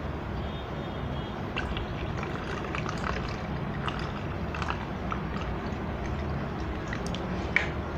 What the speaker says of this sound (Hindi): इस कपड़े को ऊपर रखा और इसको मैं छान देता हूँ इसमें।